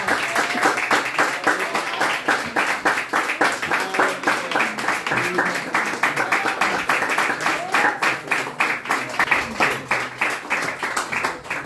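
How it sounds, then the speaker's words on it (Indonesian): Church congregation clapping in a steady, fast rhythm, dense and sustained throughout, with murmuring voices underneath. "Ayo beri tepuk tangan dulu bagi Tuhan 1 menit."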